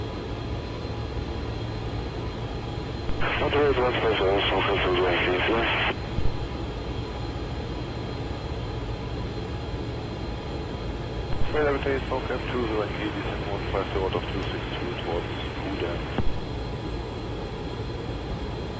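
A BAe 146 jet taxiing in a flight simulator gives a steady engine drone throughout, with someone talking over it in two bursts.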